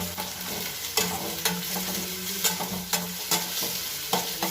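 Sliced onions with salt sizzling in a pan for a chicken roast, stirred with regular scraping strokes of a spoon over a constant close, loud fry.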